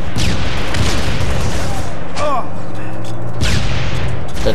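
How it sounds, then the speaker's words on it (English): Plasma pistol in Halo 4, a loud rapid barrage of energy shots and bursts with a few distinct zapping pops, under continuous dense gunfire with some voices. "I'm just killing with this plasma pistol."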